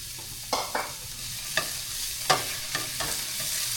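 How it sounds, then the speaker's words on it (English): Garlic and ginger sauté in a preheated pan, a soft steady sizzle punctuated by about six distinct spatula scrapes and knocks, close by and without talk. "This is just garlic and ginger that I'm sauteing."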